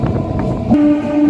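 The Simhadri Express runs near Bhimavaram with a steady rumble of wheels and carriages, then a sustained horn tone comes in and holds to the end, loud and close.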